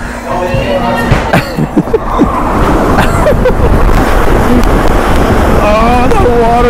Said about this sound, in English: look at the water kicking off of there